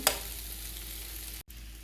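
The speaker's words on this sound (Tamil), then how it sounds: "திருப்பி திருப்பி விட்டு நல்லா ரோஸ்ட் பண்ணி நல்லா ரோஸ்ட் ஆனதுக்கப்புறம் பார்க்கலாம்" Potatoes roasting in a pan give off a steady, close crackling sizzle with no talk, and a brief dropout near the end.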